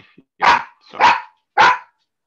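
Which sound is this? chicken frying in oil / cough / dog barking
dog barking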